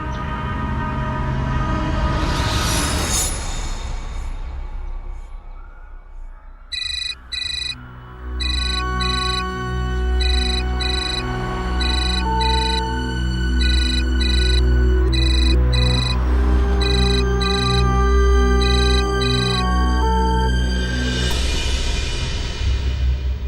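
A telephone rings repeatedly with a steady electronic ring pattern and no one answers, heard loud and clear over a low rumbling background, with musical drone tones rising at the start and end.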